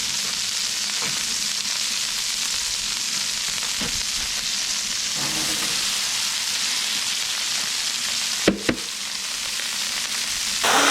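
Burgers fry in bacon grease and olive oil, giving a steady loud sizzle and crackle throughout, with a couple of sharp clanks of a utensil near the end.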